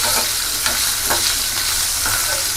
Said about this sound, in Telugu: వెల్లుల్లి, జీలకర్ర, పచ్చిమిర్చి 3 కొంచెం మనకి ద్వారగా వేగాలండి.